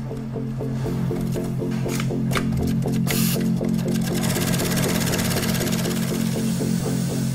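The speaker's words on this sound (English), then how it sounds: "The first workers to get their hands on the cut leather are the sewers, who stitch pieces together." An industrial sewing machine runs steadily, stitching cut leather pieces together for a Porsche 911 dashboard, its fast mechanical rattle loud and continuous throughout with no talk over it.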